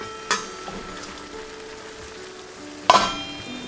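A shrimp kabob skillet sizzling on medium heat is stirred, with two sharp utensil scrapes against the pan standing out over a steady, quiet frying hiss.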